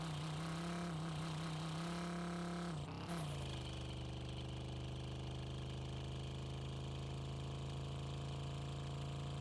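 A car engine in the game Drive Beyond Horizons idles with a steady, droning hum, dips and surges briefly in a short rev, then settles back into an even idle, alone and fairly quiet.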